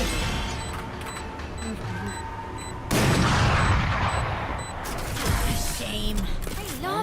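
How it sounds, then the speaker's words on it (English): Loud explosions and gunfire in a Valorant esports match burst over a busy mix of game effects and background music, with a heavy blast around the middle. "I love explosions."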